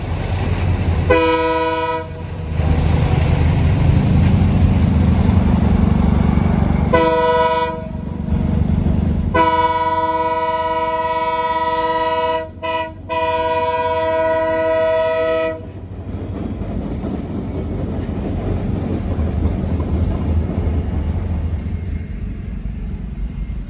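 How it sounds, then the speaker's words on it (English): A Norfolk Southern local freight, job G19, passes close by on the line toward the McDonough siding at evening, its air horn blaring in several loud blasts of varying length over a heavy rumble of rolling wagons that fades slowly. "I caught local job G19 just starting its evening, heading towards the siding at McDonough"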